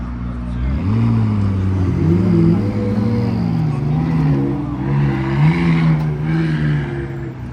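Two McLaren Senna supercars pass close by with a loud, continuous engine drone that climbs and wavers in pitch as they rev, lasting several seconds.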